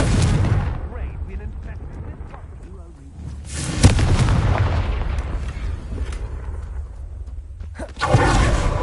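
A Confringo fire spell bursts in the game Hogwarts Legacy, a sharp loud blast followed by a sustained roaring rumble, with another burst near the end and a voice speaking over parts of it.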